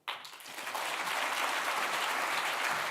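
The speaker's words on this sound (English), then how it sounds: "I think you would agree that deserves another round of applause" A seated audience at a Hong Kong lecture event breaks into loud, sustained applause that swells quickly and holds steady as a dense wash of clapping.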